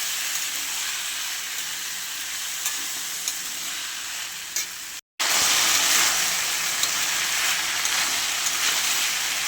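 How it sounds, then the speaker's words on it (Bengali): Small-cut potato pieces fry with black cumin in an oiled pan, giving a loud, continuous sizzle with faint stirring scrapes, briefly cut off midway before the hiss resumes even stronger. "আলুটা একটু ভাজা ভাজা হয়ে গেছে"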